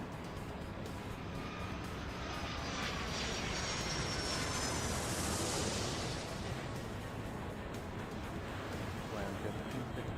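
Jet airliner taking off in the airport-management game Airport Madness 3, a steady broad engine roar swelling toward the middle of the stretch and easing off again, loud and continuous throughout.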